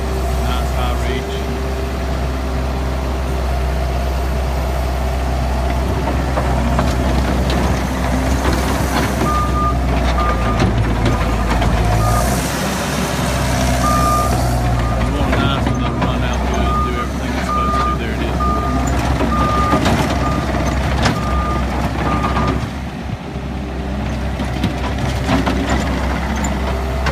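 Takeuchi TL150 skid steer idling loud and close with a deep, steady engine rumble, while an intermittent reversing beeper pulses through the middle of the run and a voice talks over it.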